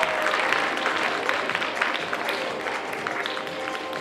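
Audience at a gala concert in Prague applauding steadily, a dense wash of clapping that holds at an even level throughout without pause.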